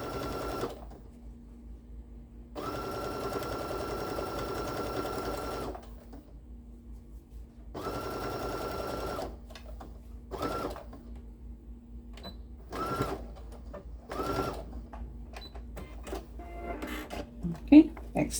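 A sewing machine stitches a tote bag in several bursts of a few seconds each, with pauses and soft handling noises between runs; the machine is close and fairly loud.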